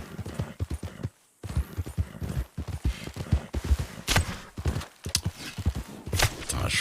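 Horse hooves clip-clopping steadily in a video game, a quick rhythmic run of close, loud hoof strikes with only brief pauses.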